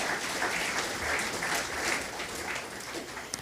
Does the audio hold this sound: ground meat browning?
no